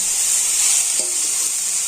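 Carrot and cabbage momo filling stirred in a hot pan, giving a steady bright sizzle with a faint scrape of the spatula partway through, close and without talk.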